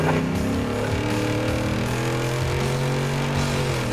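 A Ford F-150 Raptor with the 6.2 V8 and Corsa exhaust roars through a burnout, a loud, sustained engine drone with rising and falling pitch as the revs are held, heard close and without talk.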